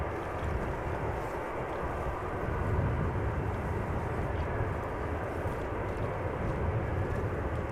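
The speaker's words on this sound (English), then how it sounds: "That was a very smooth approach of the main landing gear to the tarmac of the runway." An airliner sets its main landing gear down on the runway at Amsterdam Schiphol, heard as a steady, moderately loud broadband roar that holds throughout, with no voices.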